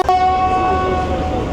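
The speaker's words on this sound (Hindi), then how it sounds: "GU40 ने दोनों डिपार्चर हॉर्न्स बजा दिए" A train locomotive sounds its departure horn, a loud sustained tonal blast right after a brief click, holding steady before fading slightly.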